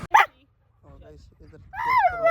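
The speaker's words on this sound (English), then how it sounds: "They are howling. They shouldn't be." Great Dane dogs at an indoor dog show in Edmonton give a sharp bark followed by rising, wavering howls nearby, mixed with people talking in the background.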